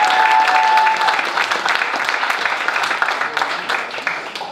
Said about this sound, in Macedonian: Може и за мене понекој аплауз